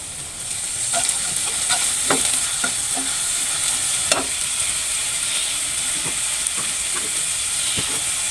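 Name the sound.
fish frying in pan with garlic paste being stirred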